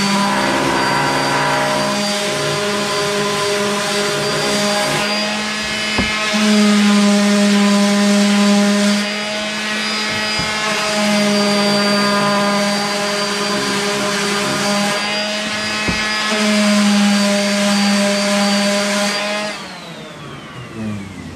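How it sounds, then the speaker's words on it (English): A steady, loud power-tool whine from sanding the edges of a wooden sign runs continuously with strong tonal harmonics, dipping and surging slightly in pitch as it works; no voices. "I'm only sanding the edges because I'm wanting to make the edges crisp."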